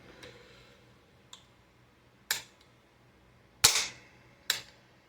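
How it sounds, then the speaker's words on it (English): A 3D-printed AR rifle with a prototype binary trigger fires in a few sharp, snappy reports spread over several seconds, the loudest near the end, each followed by a brief ring, along with a couple of small clicks. "Why is it firing? Oh, it's a binary trigger,"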